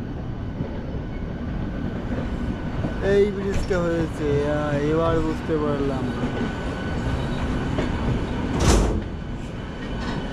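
A local train with a white engine and red coaches rumbles and clatters past steadily at Howrah, with a voice talking over much of the passage and a brief sharper burst near the end.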